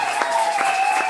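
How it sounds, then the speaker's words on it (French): A church congregation applauds loudly, a continuous wash of clapping with a few stronger bursts, steady and full throughout. "Nous acclamons très fort."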